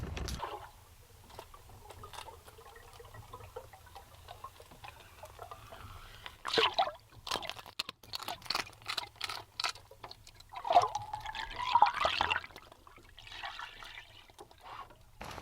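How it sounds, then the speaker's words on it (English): A big wiggling minnow-style muskie lure works through the water, giving soft trickling, pattering splashes with sharper bursts of churning midway and near the end. "Here's just a great big old wiggling minnow bait."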